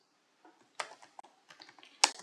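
Sparse, quiet key clicks as code is typed on a computer keyboard, a handful of irregular taps with short pauses and one sharper strike near the end, close by and alone.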